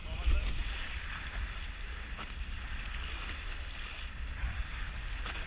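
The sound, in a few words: boat moving through large waves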